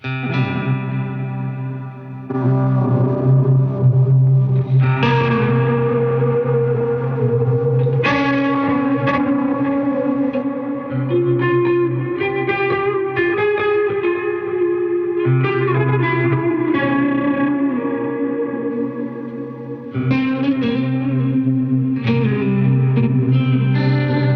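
Sustained, saturated electric guitar chords through a tape emulator effect ring out with a thick, textured, slightly warbling tone and spacious echo, changing chords every few seconds.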